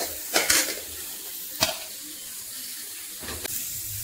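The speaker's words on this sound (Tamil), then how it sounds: "இப்போ வந்து பீன்ஸை நீங்கள் போடணும்." Green beans are stirred in a pan with chilli and turmeric powder, giving a soft, close sizzle broken by three sharp scraping clatters of the utensil against the pan.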